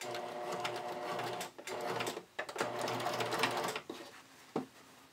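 A sewing machine zigzag-stitches band elastic onto a seam allowance in several close bursts of rapid mechanical chatter separated by short pauses, moderately loud, with no talking.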